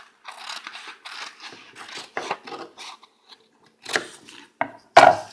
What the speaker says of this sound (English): you can just cut it with scissors right down the center